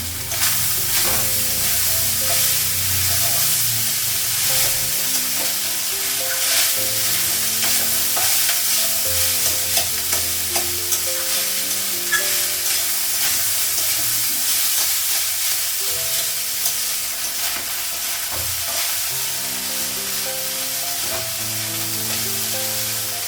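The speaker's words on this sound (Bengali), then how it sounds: "ভাত ভাজা হয়ে গেছে, গ্যাসটা বন্ধ করে দিই।" Rice stir-fries in a pan on a gas stove, a loud continuous sizzle overlaid with constant scraping and tossing from a spatula, close and unbroken throughout with no voices.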